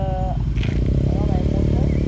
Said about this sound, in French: On a une moto, regardez, une moto bizarre.